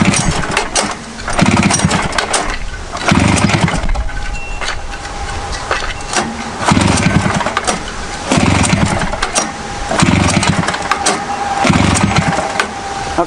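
Repeated pull-start cranking of a Rupp 440 engine attempting a cold start, rhythmic rasping turns of the motor that never catch, loud and close throughout.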